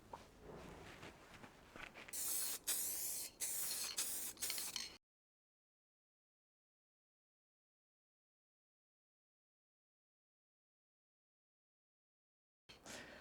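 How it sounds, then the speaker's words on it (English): A spray can painting a motorcycle panel gives a few close hissing bursts in quick succession, then silence, with a brief return of sound at the very end. "I'm going to apply the second coat, and I'm going to go a little bit thicker and try and get that depth"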